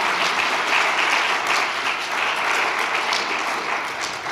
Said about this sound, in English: we should give the young investigators all together a big applause